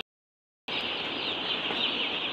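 Broiler chicks in a pen cluck and cheep in a steady, bright, busy chorus that starts suddenly after a moment of silence and stays close and fairly even.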